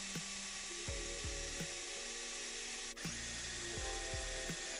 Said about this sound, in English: just drilling down into the original supports.